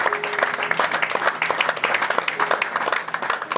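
An audience applauding a couple, with steady dense clapping throughout, fairly close, and some music or voices faintly underneath.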